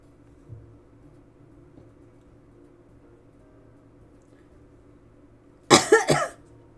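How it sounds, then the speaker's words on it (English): A single person coughs in a quick burst of three or four harsh coughs, close and loud, after several seconds of quiet room hum. "I still have a freaking cough."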